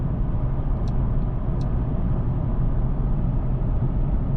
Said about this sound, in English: and then I can hear cars passing by